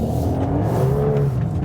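A 2021 Volkswagen Golf 8 R engine revs up while accelerating out of a hairpin corner in drift mode, a loud close steady growl with rising pitch and no talking.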